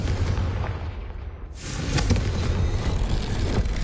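A Confringo spell explosion in the video game Hogwarts Legacy lands as a loud burst midway through a dense rumble, followed by sustained roaring noise.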